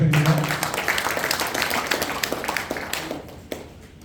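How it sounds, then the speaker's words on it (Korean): Audience applause at a workshop, a sustained patter of many hands clapping in a hall, fading gradually over a few seconds after a brief voice at the start. "박수 부탁드립니다."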